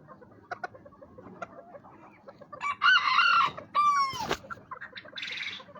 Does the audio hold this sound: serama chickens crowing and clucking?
yes